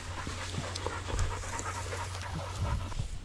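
A hunting dog pants rapidly and steadily, close by, during a pheasant and quail hunt in Kansas, with no talk over it.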